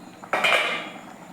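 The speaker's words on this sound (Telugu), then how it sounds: "కుక్కర్ గిన్నెలో ఇలా పెట్టేస్తే" A metal idli plate set down into a pressure cooker pot over cooking rice gives a single clear clank with a bright metallic ring that fades over about a second, close and with no talk.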